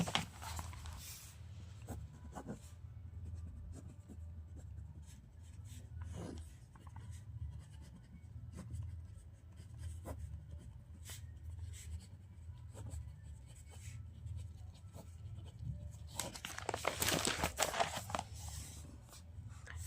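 Pen scratching and scribbling out a math derivative problem on paper, a steady soft rubbing with brief strokes through most of the stretch and a denser, louder burst of writing near the end, with no talking.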